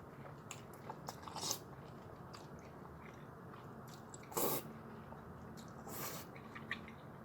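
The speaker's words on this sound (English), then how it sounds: "the crunchiness from the bean sprouts, the crispy bits too give it another different kind of crunch" Close, quiet crunching and chewing of lor mee noodles with bean sprouts and crispy bits, a steady soft munching with a few sharper crunchy bites, no talking.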